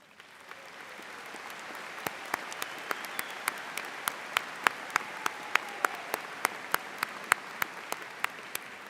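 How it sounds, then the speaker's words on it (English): A commencement audience applauds students from honor societies, soft distant clapping that starts faint and builds while a single nearer pair of hands claps in a steady, evenly spaced rhythm on top. "I ask those students who belong to an honor society to rise or raise your hand so that we can applaud your accomplishments"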